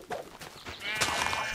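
Sheep in Minecraft bleating in short calls over a 1.6-second stretch, with a louder, sustained bleat in the second half, loud and close.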